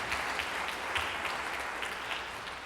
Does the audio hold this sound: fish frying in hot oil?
no